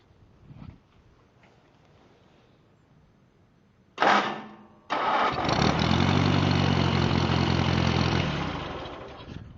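Restored 1949 Massey Harris Pony tractor with a rebuilt carburetor and new muffler: a loud cranking burst, a brief pause, then the engine catches and settles into a steady, close, loud idle that eases slightly near the end.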